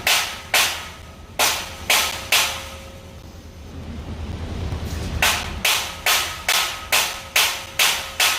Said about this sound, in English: Use a bigger hammer.